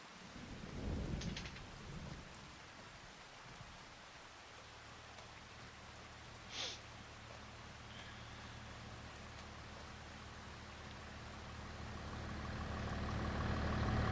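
Steady rain hisses throughout in the video game Farming Simulator 25, with a low rumbling thunder swell early on and a rising roar toward the end; no voices.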